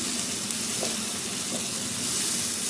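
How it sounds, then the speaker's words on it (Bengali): Chopped tomato hits half-fried onions in a pan, giving a steady, close hiss and sizzle that runs unbroken from start to finish with no talking. "যখন এরকম অর্ধেক পেঁয়াজটা ভাজা হয়ে যাবে তখন আমি কোচানো টমেটোটা দিয়ে দিচ্ছি"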